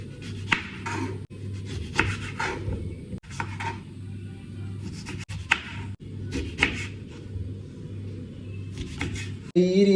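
A knife cuts through a sweet lime (musambi) in a run of crisp, close slicing strokes with short pauses between them, over a low steady hum.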